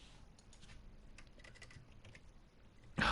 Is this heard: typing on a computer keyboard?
yes